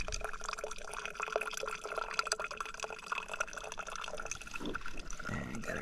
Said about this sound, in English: Just gonna show you guys again the gravity drip on the Sawyer.